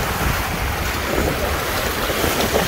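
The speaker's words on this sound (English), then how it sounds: "get hit by these freaking waves" Lake Michigan waves crash and wash onto the shore in a constant loud roar, with heavy wind buffeting the microphone and no voices.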